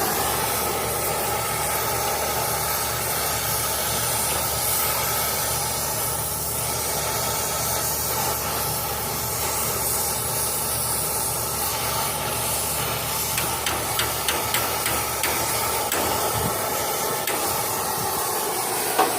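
A steady, loud oxy-acetylene torch flame hisses and roars continuously during brazing on a home air-conditioning compressor replacement, with faint crackling ticks toward the end.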